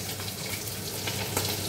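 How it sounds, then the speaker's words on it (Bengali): Fish frying in hot oil in a covered pan, a steady, close sizzle with soft crackles throughout. "দেখো মাছগুলো ভাজা হয়ে যাচ্ছে"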